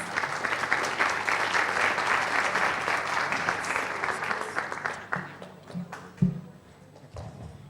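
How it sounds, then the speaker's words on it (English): An audience claps to welcome a speaker to the stage at a talk on state protections for LGBTI people, steady applause that thins out near the end into a few scattered claps and small knocks. "Please welcome with some applause."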